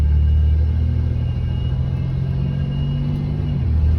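A 1997 Camaro drives along a street, its engine giving a steady, close low rumble with a droning hum throughout and a slight pitch drop near the end.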